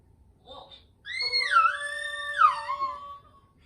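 A voice imitates a wolf howling, a single rising and falling howl lasting about two seconds after a brief soft sound, close and alone in a quiet room.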